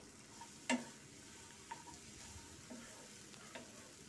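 Egg pieces and vegetables fry in a pan, sizzling steadily while being stirred. One sharp scrape of a utensil stands out early, followed by fainter stirring strokes, with no talk.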